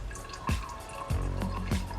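Water drips slowly from the oil catch can of a Mitsubishi Lancer Evolution IX, about three faint, separate plops roughly half a second apart, close by and over a low background hum.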